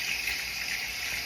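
Lukewarm water runs steadily from a tap into a bathroom sink for a morning face wash, a close, continuous hissing gush with no voices.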